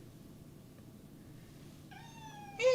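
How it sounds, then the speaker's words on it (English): A cat gives one clear, fairly close meow near the end of a quiet stretch, a short harmonic cry that rises into a louder burst. "You bad kitty."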